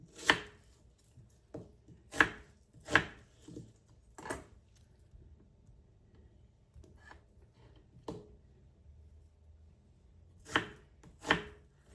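A couple of small onions are sliced on a cutting board, with crisp, separate knife strikes in uneven clusters and quiet pauses between them, close and clean with no one talking.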